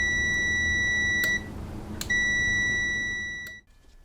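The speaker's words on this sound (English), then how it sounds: "you're going to hear the circuit close as your continuity tester beeps" A continuity tester on a Suzuki DR650 motorcycle relay beeps as the circuit closes: two long, steady electronic tones, close and clear, separated by a brief gap before cutting off.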